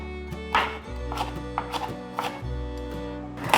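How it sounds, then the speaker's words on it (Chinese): Knife chopping half a stalk of celery into small dice on a cutting board, a series of close, irregular wooden knocks over steady background music. "把西洋芹切小丁"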